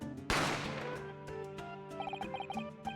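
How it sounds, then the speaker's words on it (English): A single loud gunshot effect from the Ace Attorney game bursts out near the start over background music, then a tinkling melody continues. "A gunshot rang out"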